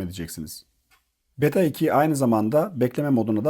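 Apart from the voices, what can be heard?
None of the usual background noises is heard.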